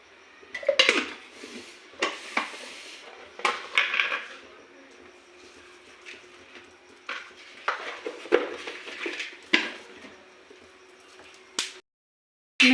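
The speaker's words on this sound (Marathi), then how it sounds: "आपण ह्या मिरच्या चांगल्या भाजून घेऊया" Chillies roasting with oil and salt in a pan: sharp metallic clinks and scrapes of a utensil against the pan come in irregular bursts over a quiet background, then cut off abruptly near the end.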